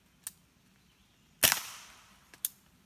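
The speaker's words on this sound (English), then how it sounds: "So we'll see if I can hit this bottle." A rifle fired at a bottle outdoors makes one sharp, loud crack with a short ringing tail, framed by a few faint clicks before and a smaller snap after.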